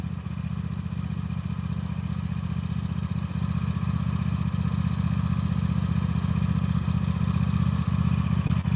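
Small snow-clearing tractor engine idling steadily close by, a continuous low, even chugging with faint clatter and no talking.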